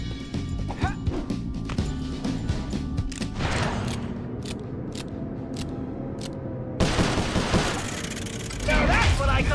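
Gunfire in the PS3 game Sly Cooper: Thieves in Time, dense bursts of rapid shots and crashing effects layered over game music, with a sharp loud surge near the end.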